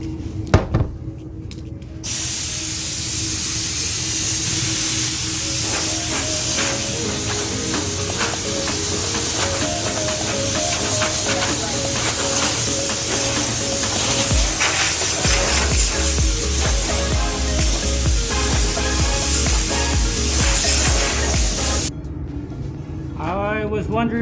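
An air nozzle blows off a car before painting, a loud, steady hiss running almost continuously, with a mechanical hum underneath and a short gap at the start.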